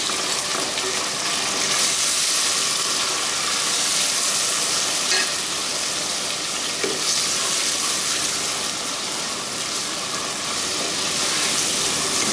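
Tomatoes for a chutney sizzle and fry in a pan with a steady, dense crackle that continues throughout, close and fairly loud.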